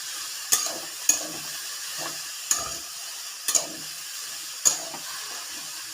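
Shredded cabbage curry is stirred in a pan over a wood-fired stove, with about six sharp spoon scrapes at an uneven pace over a faint, continuous sizzle.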